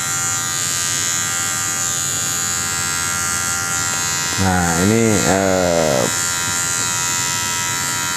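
An electric hair clipper at a barbershop buzzes loudly and close for a couple of seconds, its pitch wavering as it cuts hair, while someone talks around it.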